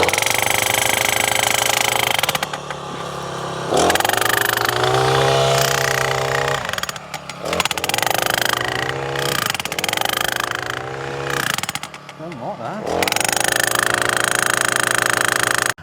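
A Star Striker steel post driver attachment pounds a steel post into the ground, a loud close engine roar with rapid hammering bursts that pause briefly and resume several times.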